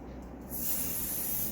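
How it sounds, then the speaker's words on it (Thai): Hair spray hisses onto fine, thin hair with dry ends during a perm styling, a steady close-up spray that starts after a brief pause and runs continuously to the end. "ฉีดสเปียอีกเลย"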